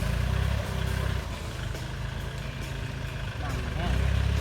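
A low, rumbling rice-field tractor engine runs steadily throughout, chugging in the background while someone talks over it.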